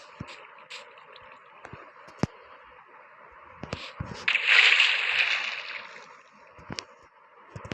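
Water flowing and sloshing in Minecraft Pocket Edition while a swimming pool is being filled, with a brief swell of rushing, splashing water midway among scattered soft clicks and taps.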